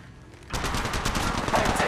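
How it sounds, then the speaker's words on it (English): Rapid automatic gunfire in the mobile battle royale game Apex Legends Mobile, breaking in suddenly after a quiet moment and continuing as a dense, loud burst of shots. "I'm taking fire."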